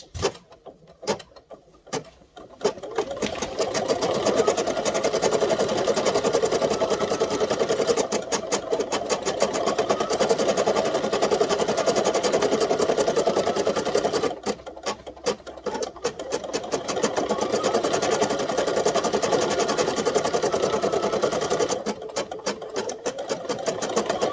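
An embroidery machine stitches strawberry seeds onto a coaster, a fast steady mechanical chatter of needle strokes running in long stretches with brief pauses between, close and fairly quiet.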